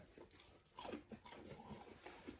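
Crunchy bites into a giant hash brown close to the mic, a few crisp crackling bursts in quick succession against a faint background hiss.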